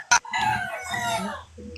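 A rooster crows from start to finish, a strained, wavering call held for nearly two seconds after a brief sharp sound, close and fairly loud.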